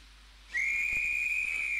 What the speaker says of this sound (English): There's the guard's whistle.